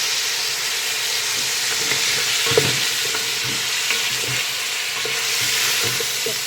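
Boiled beef stir-frying in a pan with onions, ginger, garlic and cumin, a steady loud sizzle with occasional scrapes and stirring clatter, close up and without talk.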